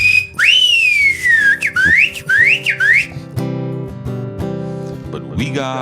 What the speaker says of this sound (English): Give us a little whistle.